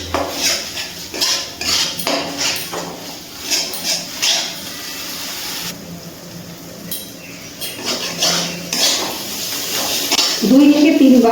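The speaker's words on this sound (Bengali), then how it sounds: "আমি মশলাটা কষিয়ে নিচ্ছি।" Spice paste for a pabda fish curry is stirred and fried in a pan over low to medium gas, with clattering metal strokes and frying noise close by, loud and busy, and a voice briefly heard toward the end.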